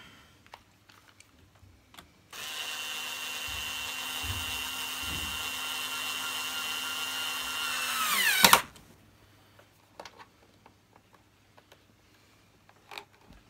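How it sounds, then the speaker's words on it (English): Power screwdriver driving a long screw back in: a steady close whine holds for about six seconds, rises and strains at the end, then cuts off abruptly, followed by quiet scattered handling clicks. "Pop the 2 long screws back in there"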